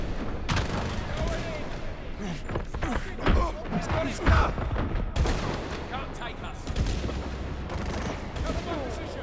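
Rapid gunfire from a weapon emptied in a long burst into nearby screens in the 007 First Light game, sharp repeated cracks in clusters with heavier booms, loud and close.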